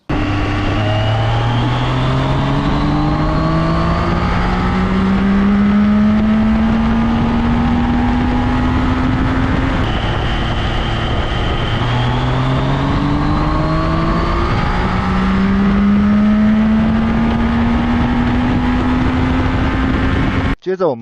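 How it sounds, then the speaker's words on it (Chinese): A ZONTES 703F motorcycle accelerates hard at full throttle through its gears, the engine note climbing in rising sweeps and dropping at each shift, loud and close throughout, with a voice talking over it. "如果在全油门的状态下 ，E 模式跟 S 模式的加速有什么区别呢"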